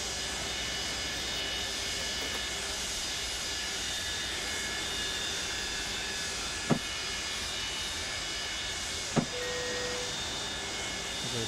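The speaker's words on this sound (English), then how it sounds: "let's go ahead and kill number 2." Engine number 2 of a Boeing 727 jet winding down in Microsoft Flight Simulator 2024, a steady whine and hiss with two brief clicks along the way.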